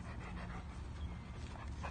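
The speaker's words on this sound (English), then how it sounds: "Doc, the German Shepherd, out here with Franklin the Hound." A large, calm hound pants close by, quick breathy huffs repeating steadily in a soft, continuous rhythm with no speech.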